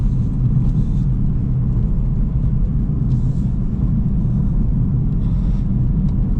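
A car drives along empty roads in Belgium, a loud, steady low engine and intake rumble heard from inside the car, with a few faint higher whooshes.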